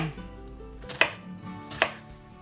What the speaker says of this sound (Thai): หอมใหญ่นะคะ หั่นเตาเล็กค่ะ